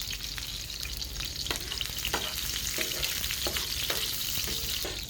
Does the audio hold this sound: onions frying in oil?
yes